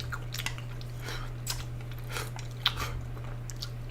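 Close, quiet chewing of a soup with pig tripe, mozzarella, carrot and shiitake mushrooms, with soft wet bites and a few sharper crunchy clicks over a steady low hum.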